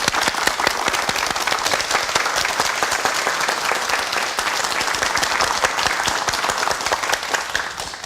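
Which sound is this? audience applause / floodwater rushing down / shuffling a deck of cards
audience applause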